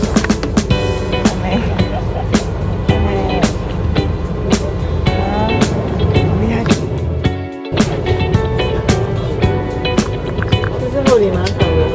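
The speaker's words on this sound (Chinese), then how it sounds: "这个 大巴士走好晃" A large tour bus sways along, with rumbling road noise, rattles and frequent sharp knocks and clatters inside the cabin, while people talk throughout.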